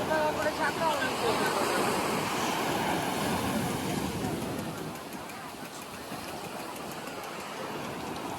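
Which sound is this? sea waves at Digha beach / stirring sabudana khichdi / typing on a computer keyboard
sea waves at Digha beach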